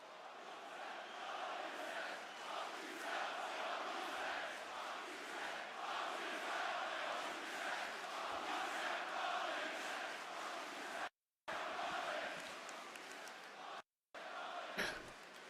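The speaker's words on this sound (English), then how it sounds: "What are they cheering?" Large wrestling arena crowd at a WWE Monday Night Raw event roars in a steady, dense wash of cheering that fills the hall, with two brief dropouts near the end.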